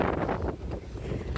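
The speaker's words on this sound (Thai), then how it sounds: "it's raining but it's windy as well" Strong wind buffets a microphone on a rainy morning walk to school, a steady broadband roar with gusty swells, loud and close throughout with no talk.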